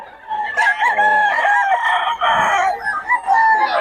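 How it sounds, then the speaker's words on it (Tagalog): Many roosters crowing loudly and close in Bocaue before full daylight, overlapping calls that rise and trail off one after another. "Daming manok dito mga idol."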